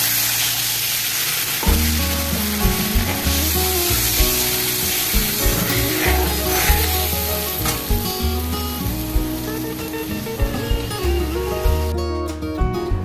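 Spice paste of ground coriander, chilli and turmeric dropped into hot oil for a rohu fish curry, bursting into a loud, continuous sizzle with repeated scraping and stirring clatter of a spatula against the pan.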